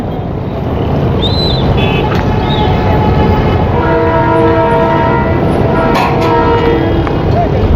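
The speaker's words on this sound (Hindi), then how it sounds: "हॉर्न बज चुका है। ट्रेन आ रही है।" Loud continuous rumble of an approaching Karachi Circular Railway train at the Gulbai crossing, with blaring horn blasts rising above the steady roar of stopped traffic and crowd noise.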